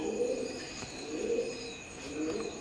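Imported Oman-bloodline Teddy pigeons coo softly nearby in a loft, a few low, rolling throaty calls rising and falling under faint background hum.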